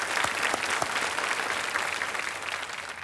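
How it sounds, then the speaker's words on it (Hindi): Studio audience on the Hindi quiz show Kaun Banega Crorepati clapping for a female contestant in the hot seat, a full, steady wave of applause that gently fades toward the end, without voices. "तालियां एक बार फिर बज जाएं इनके लिए।"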